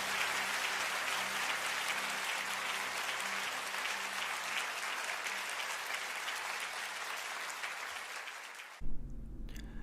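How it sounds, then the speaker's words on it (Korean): A congregation claps together during a Korean Sunday church worship service, sustained steady applause filling the room for about nine seconds before stopping abruptly, with a brief low thump and a voice at the end. "하나님께 큰 박수로 영광 돌리겠습니다"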